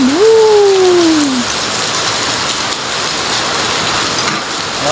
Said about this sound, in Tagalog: Grabe namang ulan yun.